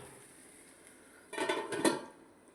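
A lid set down over a handvo pan on a low gas flame, giving a couple of close metallic clanks and rattles in a quiet kitchen.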